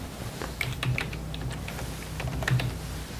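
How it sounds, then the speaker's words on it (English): Someone types a short search on a computer keyboard, a quick run of close, light key clicks in an irregular rhythm with a few louder taps, alone without voices. "So I type in fractions and I click search."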